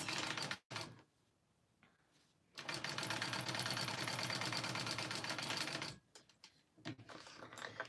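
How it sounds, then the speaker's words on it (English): A sewing machine stitches connectors together with rose gold hardware, running in short bursts and then a long steady whirring stretch, separated by quiet pauses. Moderately faint, with no talking. "I'm just sewing all my connectors all in one thing real quick"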